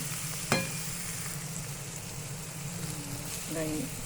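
Ridge gourd frying in oil in a pan, a steady soft sizzle with a sharp clatter near the start and brief tonal sounds toward the end.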